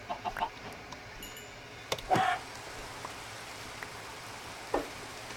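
Chickens in the video game Minecraft give a few faint, short clucks scattered over a quiet rainy ambience, with one slightly louder cluck in the middle.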